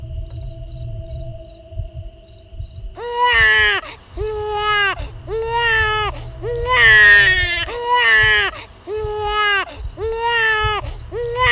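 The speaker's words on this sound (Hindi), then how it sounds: "उस आदमी को अचानक एक छोटे बच्चे के रोने की आवाज सुनाई दी।" A small child crying as a sound effect in an animated village horror story: a series of loud, drawn-out wailing sobs in steady rhythm, following a quiet opening of faint chirping tones.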